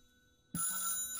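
A telephone in the video game Beholder 3 starts ringing abruptly after a moment of near silence, a single bright electronic ring burst heard close and alone.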